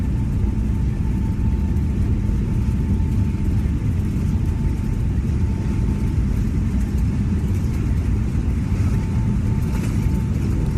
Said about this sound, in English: Oh, listen to the difference in those engines